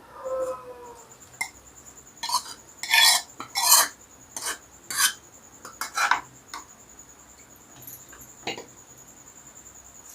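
Mango pieces are stirred and sautéed into a drumstick and mango sambar in a pan, giving about a dozen scraping, rasping strokes of varying loudness over a low sizzle, with no talking.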